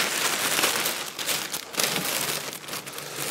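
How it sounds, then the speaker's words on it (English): A plastic bag crinkles and rustles as it is fitted into a dust collector, a steady, close, papery hiss of handling noise with small crackling bursts and no talk. "all it remains now is for us to put a plastic bag in here"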